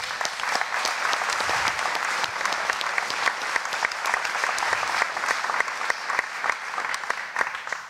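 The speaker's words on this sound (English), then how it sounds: "So, round of applause for that team." A conference crowd at a Bitcoin event bursts into dense, steady applause, many hands clapping at once at full, even loudness for the whole stretch without pause.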